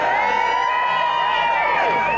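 Large outdoor crowd at a Christmas lights switch-on in Macclesfield cheering and shouting continuously, with children's voices and whoops rising and falling, loud and dense throughout.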